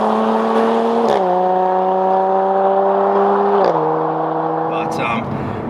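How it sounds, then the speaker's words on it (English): Jaguar F-Type S Coupe with a supercharged V6 engine droning steadily from inside the cabin, its strong tone holding level with two slight drops in pitch like gear changes, loud and close throughout. "It's a V6 supercharged model and it sounds absolutely insane."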